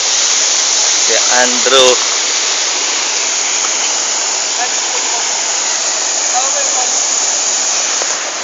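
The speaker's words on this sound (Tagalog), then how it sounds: "Dito po kami ngayon sa falls." Waterfall roaring as a steady, loud broadband rush throughout, with a voice calling out briefly over the water near the start.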